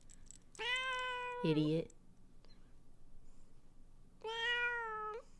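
A pet cat meows angrily in two long, drawn-out cries separated by a pause, loud and close, with a brief murmured word between them.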